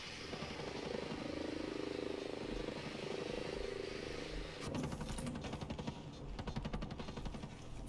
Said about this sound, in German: Ja, aber da kommt ein Heli.